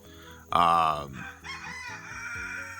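A rooster crows loudly and close by in one long harmonic call, then clucks and squawks continue at lower volume, with a voice speaking briefly underneath.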